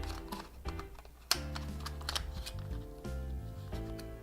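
DJI Mavic Air drone batteries snap into a charging dock, in a quick series of close plastic clicks and taps with one sharper snap, no talk.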